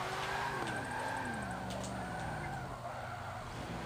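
A Firebird drifts around Long Beach in Forza 7, its loud engine roar rising and falling steadily under continuous screeching tire squeal, with no one speaking.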